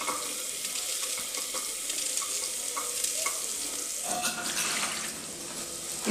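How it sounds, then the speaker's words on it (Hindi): Onion frying in butter in a pan, a steady close sizzle with occasional stirring scrapes, no talking. "इसमें हम प्याज डाल देंगे, तुरंत डाल देंगे बटर के साथ ही"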